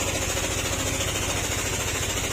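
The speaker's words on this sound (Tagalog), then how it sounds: "dito sa part ng makina, ayan yun yung ingay niya." A continuous harsh mechanical grinding from a running Yamaha NMax 155 scooter engine at about 25,567 km, loud and close, with a steady rapid rattling texture and no pauses.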